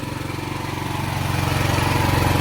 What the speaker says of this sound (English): This light means it's running the generator.